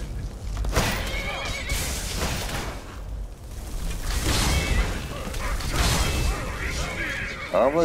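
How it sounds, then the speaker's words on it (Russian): A horse neighs in the video game Skyrim, loud and close, over continuous game sounds and clattering mechanisms, with a spoken voice partly heard. "А вы это не моя эта лошадочка-то,"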